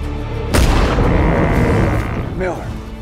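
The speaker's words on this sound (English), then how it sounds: "there's no sense shooting more than we can skin" A gunshot cracks in a Nicolas Cage western trailer for Butcher's Crossing, one sharp loud blast followed by a lingering rumble under swelling score.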